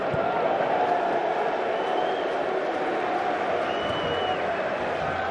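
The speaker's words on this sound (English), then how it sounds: "the home crowd beginning to show their displeasure again" A home football crowd at a Leicester City versus Hull City match voicing displeasure, a broad sustained roar and murmur of a large stadium audience under a commentator's talk.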